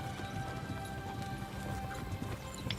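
Horse hooves clip-clop steadily along a road in Kingdom Come: Deliverance II, a soft, even rhythm of thuds under a busy ambient background.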